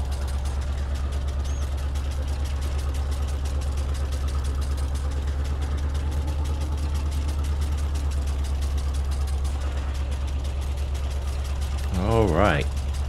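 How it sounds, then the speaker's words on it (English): A sickle bar mower in Farming Simulator 22 chatters back and forth in a fast, even rhythm over a steady, loud tractor engine drone, unbroken for the whole stretch, with a brief wavering tone near the end. "I love the sound of the sickle bar mower. Just the back and forth, the ch-ch-ch-ch-ch-ch-ch noise."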